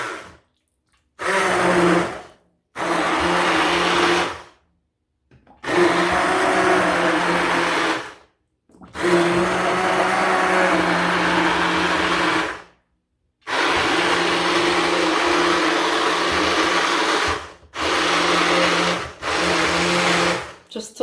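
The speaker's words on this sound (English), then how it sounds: "I just use an ordinary blender like this, and I stick it in and I start blending" A hand blender whirs in repeated bursts, starting and stopping several times with short silent gaps, its motor pitch shifting slightly as it churns thick carrot and celery vegetable soup.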